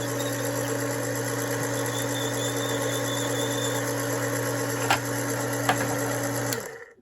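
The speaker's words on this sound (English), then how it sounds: "Insert your case until you feel the cutter start engaging it, and when it quits, you're done." A Frankford Arsenal Platinum Series case prep center hums at a steady motorized pitch while its sharp cutter chamfers a brass cartridge case, with a couple of brief scraping touches before the motor winds down at the end.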